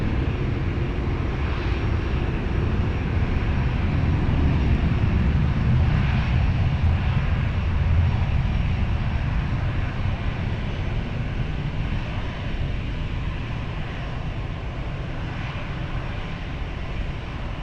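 An airliner at Lisbon Airport rolls into its takeoff, a steady broadband jet-engine roar holding loud and close, then slowly easing as the aircraft moves away.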